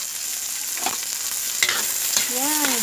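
Ginger, garlic and onion sauté in hot oil in a heated pan, giving a steady close sizzle broken by a few scrapes of stirring, with no one talking.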